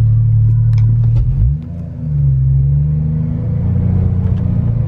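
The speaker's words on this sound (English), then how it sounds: "he told me he wouldn't mind if I did a celebratory donut real quick" A Porsche engine drones loud and close as the car does a donut on wet pavement, a steady rumble that dips briefly, then revs back up and holds.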